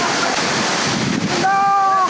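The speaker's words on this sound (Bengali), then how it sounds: "আমি এখন আছি সুপ্ত ধারাতে, যে ঝর্ণা আপনি আগে কখনো দেখেননি" Roaring waterfall at Suptadhara in Bangladesh, a dense, loud, steady broadband rush of falling water with wind buffeting the microphone, and a brief whistle-like tone in the final second.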